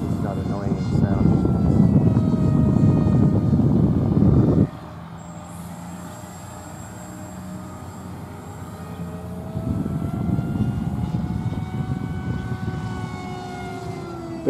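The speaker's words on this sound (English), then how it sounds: "It's also very quiet because the motor's on the front." A Pelican RC model plane with a front-mounted motor flies past. It gives a steady electric motor drone that is loud at first, drops quieter for several seconds, then swells again.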